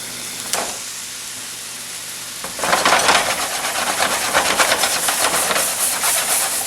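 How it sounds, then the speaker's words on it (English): Speckled trout sizzling in a hot pan, a soft hiss that swells suddenly into a loud, steady crackling sizzle close by. "now that I'm hearing some sizzling action"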